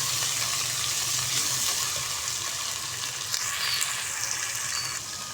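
Steady, loud sizzling of garlic ginger paste frying in hot oil for dal mash, with scraping stir sounds throughout and no talking.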